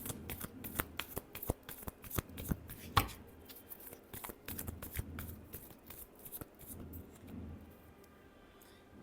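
A deck of tarot cards is shuffled by hand close up, a rapid run of crisp riffling flicks and slaps that thins out toward the end, with no talking.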